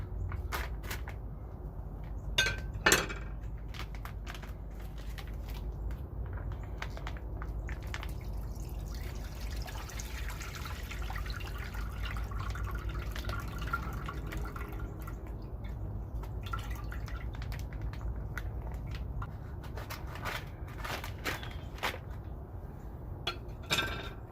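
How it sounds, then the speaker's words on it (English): Brine liquid draining from a cured pork belly: quiet, steady trickling and dripping, with a few sharper clinks and drips near the start, close by and faint. "we're going to drain the liquid out of this brine here"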